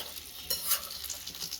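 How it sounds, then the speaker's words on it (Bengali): An egg fries on a small mini stove, giving a brief crackling sizzle with a slight scrape or stir partway through, close and fairly quiet. "বড় ডিম ভাজছি"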